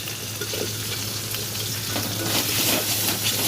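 Spices with salt, turmeric and chili powder frying and being stirred in a pan for a fish curry, a steady close sizzle with soft scraping strokes that swells slightly toward the end, with no talk.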